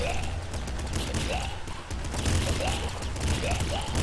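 Rapid bursts of gunfire in a shooting video game crackle continuously over a rumbling background, dense and fairly loud throughout.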